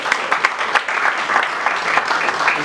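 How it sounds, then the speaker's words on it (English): Guests at a corporate customer reward dinner give a round of applause, loud and close, with distinct individual claps popping out of a steady clapping crowd. "Please, a round of applause."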